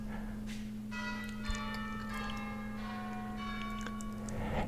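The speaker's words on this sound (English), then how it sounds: "And when the bells clang and cling" Norwich Cathedral's church bells ring out in a sustained, overlapping peal, with bright metallic strikes layered over a steady low hum and no talking.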